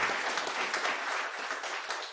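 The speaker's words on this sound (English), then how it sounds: "So I must expect the clap for my both colleagues." Brief applause from an audience at an academic valedictory ceremony in a mathematics department, honouring two colleagues; steady, moderately distant clapping that continues without a break.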